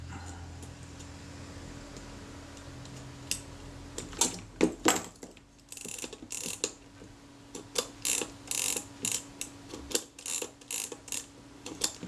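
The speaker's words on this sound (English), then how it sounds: "tighten those two screws, put my shutter release button on the top" Small metallic clicks and ratcheting turns, close and quiet, repeating in short bursts as screws are tightened by hand on a Kodak Retina I type 010 camera.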